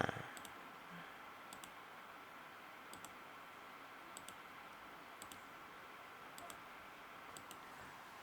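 Mouse clicks on buttons in live streaming software, heard as faint, sharp single clicks spaced about a second apart over a low, steady room hiss.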